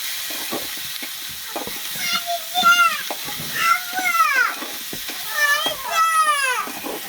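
Garlic paste, cumin paste, chopped onion and tomato sizzling and frying in a hot pan, a steady hiss with stirring, while someone talks and children chatter nearby.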